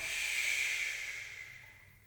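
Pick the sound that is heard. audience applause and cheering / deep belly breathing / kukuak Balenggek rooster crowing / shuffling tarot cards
deep belly breathing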